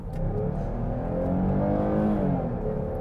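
A 2017 Chrysler Pacifica minivan with its 3.6-liter V6 accelerates, a smooth steady engine hum rising gently in pitch, heard from inside with no talk.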